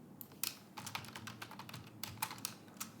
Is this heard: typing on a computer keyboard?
yes